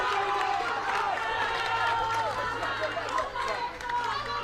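At a women's blind football match between England and Morocco, a crowd of Moroccan supporters cheers and roars after their keeper saves a penalty, a sustained loud swell heard from the stands.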